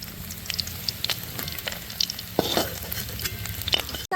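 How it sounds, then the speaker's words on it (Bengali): Sago pulao fries in a pan while being stirred, a soft continuous sizzle with scattered scraping clicks of the spoon, close and moderately loud. "ভেজে নিয়েছি হালকা লালচে লালচে কালার করে নিয়েছি"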